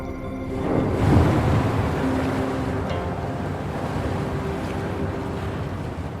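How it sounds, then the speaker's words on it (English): Water level dropping in a video game: a low, rushing surge of draining water swells early, then settles into a steady, rumbling wash that continues alone. "The water level just dropped again"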